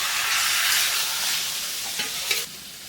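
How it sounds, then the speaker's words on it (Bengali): Half-cooked meat curry coated in spices fries noisily in a pan, a dense close sizzle with a couple of brief scraping stirs near the end. "মাংস অর্ধেক রান্নাও হয়ে গেছে অনেকক্ষণ হয়ে গেছে আধা ঘন্টা হয়ে গেছে মশলা মাখানো হচ্ছে"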